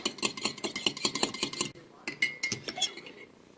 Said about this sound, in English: So I'm going to mix the egg yolk and the white parts.